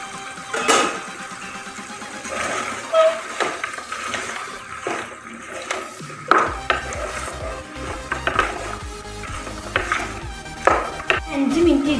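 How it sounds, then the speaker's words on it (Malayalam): Onion, green chilli and tomato for a beef curry are stirred in a pan, with repeated close scrapes and knocks of a spoon over a gentle sizzle. "ഗ്രീൻ ചില്ലിയും കൂടി, 2 ടൊമാറ്റോയും കൂടി ചേർത്ത് നന്നായി മിക്സ് ചെയ്ത്"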